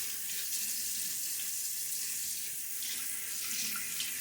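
Tap water runs steadily into a sink during a wet shave with a Gillette Nacet blade in a Timeless 68 open-comb razor, a continuous close hiss and splash that is loud and unbroken and has no talk over it.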